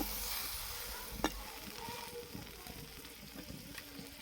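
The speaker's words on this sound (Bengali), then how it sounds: "এখানে অল্প জল দিয়েছি।" A little water splashes into frying bitter gourd for ucche chorchori, setting off a steady hissing sizzle with one sharp crackle early on and soft stirring sounds close by.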